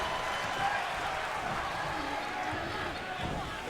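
A steady arena crowd roar fills a WWE 2K22 wrestling match, a broad continuous wash of cheering under constant commentary talk.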